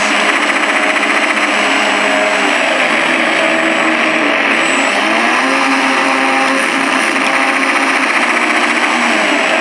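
An FMS P-47 radio-controlled model plane fitted with a Benedini sound system flies past with simulated machine-gun fire, a loud continuous engine drone with rapid buzzing texture, pitch sweeping as it passes, no talk.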